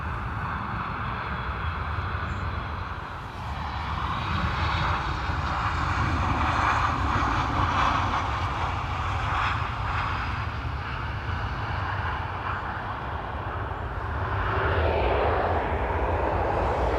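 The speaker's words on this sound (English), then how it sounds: "Ryanair from East Midlands." A Ryanair airliner arriving from East Midlands roars steadily and loudly at an airport, a broad sustained jet rumble that swells slightly near the end, with no talking.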